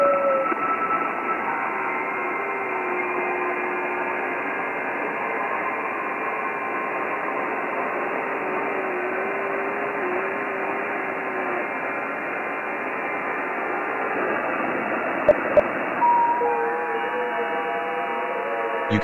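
Ham radio transmitting an FT8-style digital signal through WSJT-X, a steady continuous tone-laden hiss with stepping pitched tones that runs unbroken for the whole stretch, with no voices.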